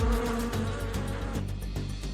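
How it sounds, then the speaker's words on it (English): Bees buzz loudly and continuously close by, an agitated droning swarm with no voices. "But bees seem to be angry."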